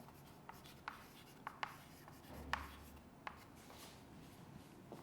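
A pen writes on paper in a quiet room during a French earth-science exercise on exogenous rocks, with soft scratching strokes and small taps at irregular intervals, close and faint.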